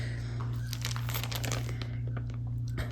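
A plastic sheet crinkles during work on a paper-craft shaker box, giving close, busy crackling bursts over a steady low electrical hum, with no talk.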